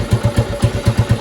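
Honda TLR200 trials motorcycle engine running, a loud, close single-cylinder putter with regular pulsing beats about every eighth of a second, slightly uneven as if struggling to idle, with no talking.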